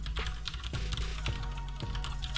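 Rapid keystrokes on a computer keyboard as a wget command is entered on Ubuntu Server 16.04, close and steady, with clacks coming in quick clusters over a low hum.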